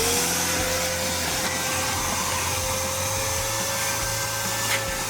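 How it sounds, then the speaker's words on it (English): A vacuum cleaner runs steadily inside a Toyota Echo's half-stripped car interior, a loud, continuous whining drone with constant suction noise throughout and no speech. "I think it's time that we can start vacuuming."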